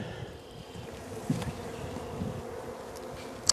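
Honey bees hum steadily at an open beehive, a soft, continuous close-up drone with no talk.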